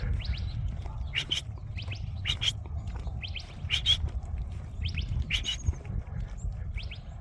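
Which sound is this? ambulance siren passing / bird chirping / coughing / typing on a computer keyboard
bird chirping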